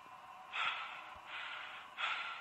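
Heavy, ragged breathing comes from a horror video game, three drawn-out breaths in a slow rhythm, fairly faint and close with no speech.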